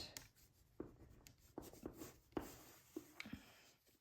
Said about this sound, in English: So I'm just going back with my colored pencil